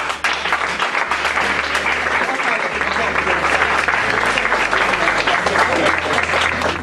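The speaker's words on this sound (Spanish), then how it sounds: "Aplauso." Steady, dense audience applause fills a film festival gala in Asturias, loud and continuous throughout with a low hum running beneath the clapping.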